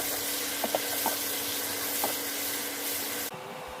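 Steady hissing sizzle of chopped onions sautéing in hot oil for mushroom gravy, loud and continuous with a few soft clinks of stirring, then cutting off abruptly near the end.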